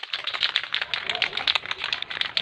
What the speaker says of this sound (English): shaking the yellow paint, neon